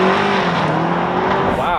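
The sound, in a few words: 2024 BMW X6 M60i accelerating hard in Sport mode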